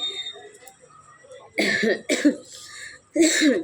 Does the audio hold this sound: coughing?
yes